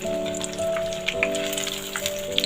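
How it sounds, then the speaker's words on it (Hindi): Potato tikki coated in gram flour fry in oil over medium heat, giving a steady close crackle of fine pops like rain, with a faint tonal hum running underneath throughout. "ये देखिए ये इसको मैं मीडियम आंच पे फ्राई कर रही हूँ"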